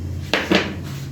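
A tava griddle being set down on a home kitchen stove: two close metallic clanks about a quarter second apart over a low steady hum, with no talking.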